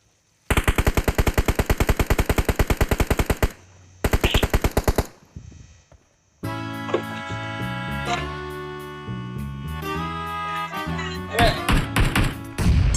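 Rapid automatic gunfire bursts from the PUBG Mobile video game, two loud sustained volleys followed by a brief pause, then in-game music and effects with scattered sharp shots continuing.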